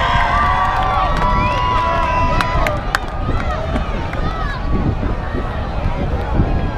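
A tuff truck engine runs and roars at the Northern Western Michigan Fair while a crowd cheers, with steady broadband rumble throughout and people talking and shouting over it.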